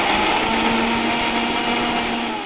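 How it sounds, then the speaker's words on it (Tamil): An electric kitchen mixer grinder blending betel leaves runs loudly and steadily with a high motor whine and churning, close up and without voices, easing slightly at the end. "இதை நம்ம மிக்சியில் ஓட்டிக்கலாம்"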